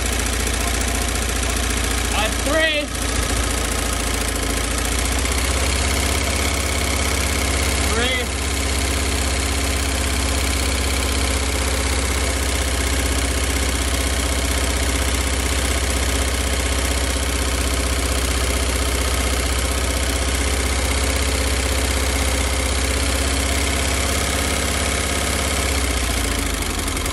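An old bus engine idles roughly, giving a steady low, throbbing drone with a faint knock that runs unbroken for nearly half a minute, apart from a couple of brief disturbances.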